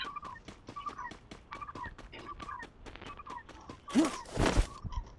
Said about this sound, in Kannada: ಆ ಪಕ್ಷಿ ಸೌಂಡ್ ಬರ್ತಾ ಇರೋದು ಗೇಮಲ್ಲ ಇಲ್ಲ ಅಂದ್ರೆ ಅಲ್ಲ?